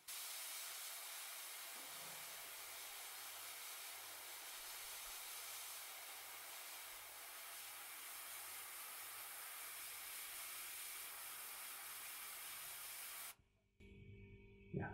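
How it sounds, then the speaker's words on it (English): Close, steady hiss of a spray gun misting paint onto a miniature Cygnar Warjack armor piece, sustained at a constant level for most of the clip before cutting off near the end. "then with the gun we spray it"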